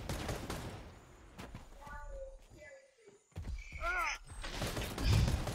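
Bursts of gunfire in a video game erupt at the start and again near the end, with shouting voices and other game noises in the quieter middle stretch.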